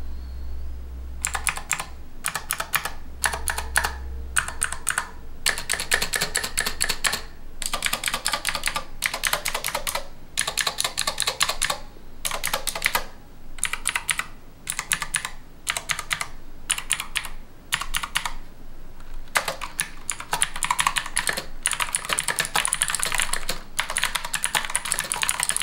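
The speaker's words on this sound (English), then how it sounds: "I found the green clicky switches to sound and feel great, so we'll do a quick sound test so you can hear how those sound." Clicky green-switch keys on a Razer wireless keyboard typed in quick bursts, with short pauses between runs of crisp, close, bright clacks and no talking.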